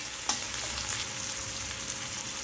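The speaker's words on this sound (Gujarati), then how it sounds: "આપણી ડુંગળી સતળાઈ ગઈ છે, તરત જ આપણે ટમેટું નાખીશું અને હલાવીશું." Chopped tomato goes into sautéed onions in a hot pan for a methi besan sabzi, giving a steady close sizzle with a soft knock near the start and faint stirring scrapes, no voices.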